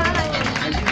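Crowd applause at a village cycling race awards in San Antonio Acatlán de Osorio, Puebla: dense, steady clapping throughout, close and fairly loud, mixed with crowd noise and some voices.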